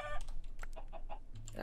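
Blocky, clipped clucks from Minecraft chickens, several short calls in quick succession, fairly quiet, with faint key tapping underneath.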